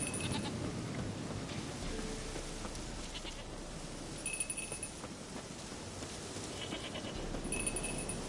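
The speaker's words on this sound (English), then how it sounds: "Goat of mine, dearest, sweetest goat." A goat bleating in The Witcher 3: Wild Hunt, several short, nasal bleats repeating at intervals, fairly close but quiet, over a soft outdoor background with rustling and no speech.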